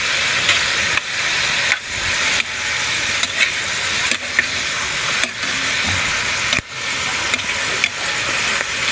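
Sayote and sardines cook in a pan with a steady, loud sizzle and hiss, broken every second or so by scraping stirs of a utensil, close up and with no voices.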